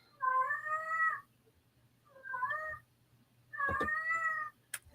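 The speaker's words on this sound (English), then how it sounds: "you can hear the cat. The cat wants to talk." A house cat meows three times in a row, each call long, clear and close, with short quiet gaps between them and a faint low hum underneath.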